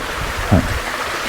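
Water from a stream spills down a cliff face at a forest waterfall in Thailand's Dong Bang I national park, giving a steady close-by rushing wash with one short gurgling splash in the middle.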